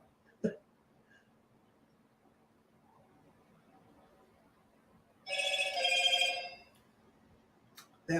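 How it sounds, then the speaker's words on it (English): A cell phone rings once in a short, bright, warbling burst of about a second, fairly close in an otherwise quiet room, with a faint click before and after. "That was my cell phone."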